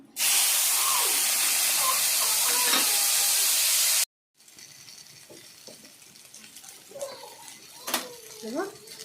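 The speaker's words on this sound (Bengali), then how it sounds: "আমরা এবার দিলাম পাঁচফোড়ন।" Panch phoron spices dropped into hot oil for a mango chutney with bitter gourd fritters, a loud bright sizzle that cuts off abruptly, followed by quieter pan sounds and a voice speaking.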